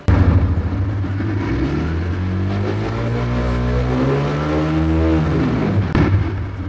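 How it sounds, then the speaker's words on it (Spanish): A TVS Raider 125 FI motorcycle, 2026 model, revs hard in Power mode close by. The engine note climbs steadily in pitch without hitting a limiter, holds high, then drops off near the end, loud and with no talking. "Ahora veamos el modo Power, donde la moto se desenfrena."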